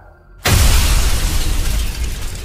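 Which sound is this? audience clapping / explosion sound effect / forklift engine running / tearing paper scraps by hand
explosion sound effect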